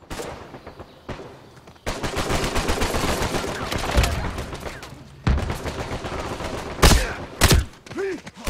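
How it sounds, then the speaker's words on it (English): Gunfire in an Uncharted 4 multiplayer match, with rapid automatic bursts and scattered shots, loud and close, broken by brief pauses and a few heavy impact thuds near the end. "Who is shooting?"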